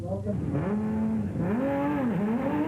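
Rally cars race in the Lesotho Sun 400, with engines rising and falling in pitch through repeated revs and gear changes, loud and continuous.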